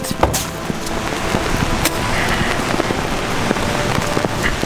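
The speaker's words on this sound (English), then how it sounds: "it's pouring down rain" Heavy rain pours down outdoors, a loud, dense, steady hiss of drops striking surfaces, with sharper splats and knocks scattered throughout.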